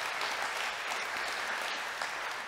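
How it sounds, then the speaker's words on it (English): A church congregation claps together in a sustained burst of applause praising God, a dense, even roar of hands lasting a few seconds. "we ought to give God a great big hand clap of praise for that"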